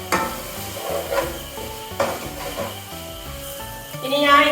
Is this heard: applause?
no